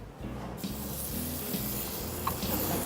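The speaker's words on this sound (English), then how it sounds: "I'm gonna get the scallop, and you're gonna hear a sizzle" A scallop searing in a hot pan gives a steady, crackling sizzle, fairly quiet and continuous with a brief brighter hiss at the start.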